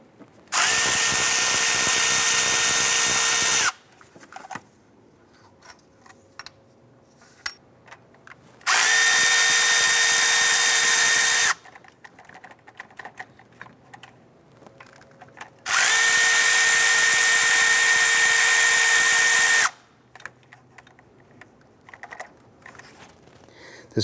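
Power tool spinning out three 10mm bolts while replacing the variable valve timing solenoid on a 2009-2015 Honda Pilot engine; three separate loud, close whirring bursts of several seconds each, with quiet clinking handling in between.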